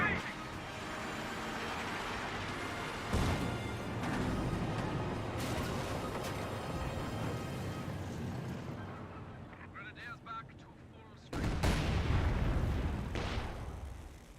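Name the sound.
mine detonation in Company of Heroes 2 video game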